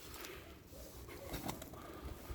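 Pigeons coo softly amid rustling and scuffling, with a steady busy background of bird noise throughout.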